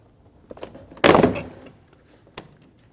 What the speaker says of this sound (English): We're going to pop the door panel off of the door.